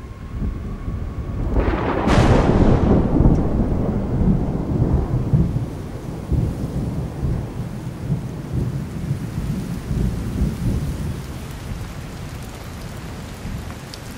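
Rain pours steadily during a storm, with a sharp, loud thunder crack early on that rumbles away beneath the continuous hiss of falling drops.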